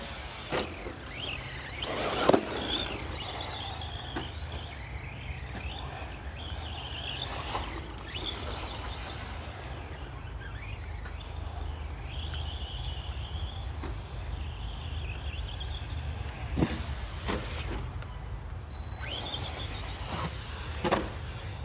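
An ARRMA Senton BLX short course RC truck runs on a 2S battery, its electric motor whining steadily and surging now and then, with occasional thumps and knocks from the truck at a moderate distance.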